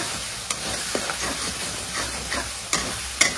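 Spices for chicken curry fry in a pan as a steady sizzle, broken by several sharp scrapes and clacks of a spoon stirring, close and with no voices.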